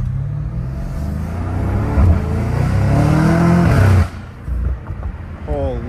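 A catless BMW M5 Competition engine revs hard on a street, a loud close rising roar with climbing harmonics for several seconds before cutting off, then a brief rev and people talking.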